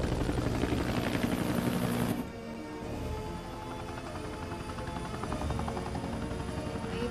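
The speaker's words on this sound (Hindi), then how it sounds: "परफेक्ट टाइम पे आया हेलीकॉप्टर में।" A helicopter arrives in an action film's climax scene with a loud, dense rotor drone that drops off suddenly, then carries on as a steady, throbbing hum; no talking.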